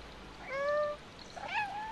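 A cat in the Stray video game gives two short, clear meows, the second rising and trailing off, fairly close over a quiet background.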